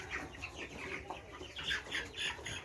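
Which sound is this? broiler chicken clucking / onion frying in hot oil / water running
broiler chicken clucking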